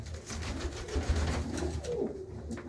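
Pigeons coo softly and repeatedly inside a loft coop holding a group of male birds, with low, rounded calls overlapping in a close, steady murmur.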